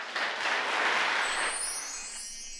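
Audience applause in a chamber concert hall welcoming a pianist to the stage for the second half of a Chopin recital, a dense steady burst of many hands that fades slightly toward the end.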